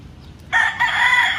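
Vigorous red-feathered farm rooster with sickle tail feathers crowing loudly and close, one sustained crow beginning after a short quiet lead-in.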